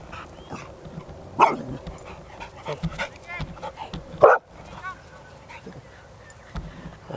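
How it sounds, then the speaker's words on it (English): Several dogs playing nearby, with a couple of short, loud barks or yelps standing out over a busy background of rustling and scattered voices. "Just dogs are playing with me."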